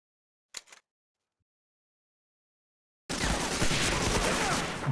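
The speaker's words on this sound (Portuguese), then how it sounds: "Belo tiro aqui do Under aqui" Gunfire from the video game Medal of Honor: Allied Assault Reforged erupts after a brief click and a pause of silence, a loud sustained stretch of rapid shots and battle noise.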